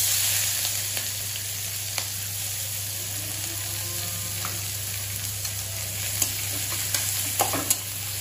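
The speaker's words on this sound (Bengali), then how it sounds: "আমার আলু ভাজাটা প্রায় হয়ে এসেছে, আর এবার আমি দিয়ে দিচ্ছি একটু কাঁচা লঙ্কা আর পেঁয়াজ" Potato fry sizzles steadily in a pan as green chili and onion are added, a constant crackling hiss with occasional stirring clinks and taps, close and unaccompanied by talk.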